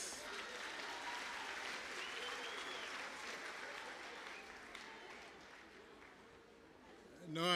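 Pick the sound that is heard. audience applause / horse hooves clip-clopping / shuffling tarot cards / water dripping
audience applause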